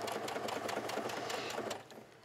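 A sewing machine stitches a cap sleeve onto a dress with a close, steady, rapid mechanical whir, fading slightly near the end as the stitching slows.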